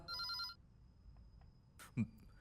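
A telephone rings in a short burst of bright electronic trills that stops abruptly. Faint background noise and a brief knock-like sound follow, all quiet and close.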